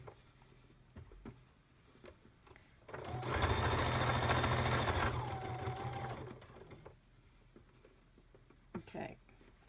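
A sewing machine stitches double fold bias binding in a burst of about three seconds, steady and moderately close, with quiet room sounds before and after.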